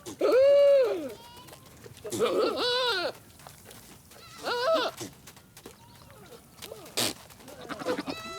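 Goats, including a billy in heat, bleat and call in several wavering, throaty cries, some loud and near, spaced apart with quieter rustling and faint snorts between.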